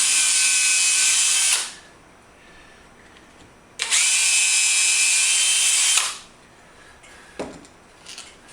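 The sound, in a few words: driving wood screws into leather belt pieces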